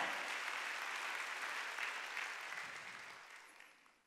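Steady applause from a church congregation at a Sunday service, dense and sustained, gradually fading out toward the end.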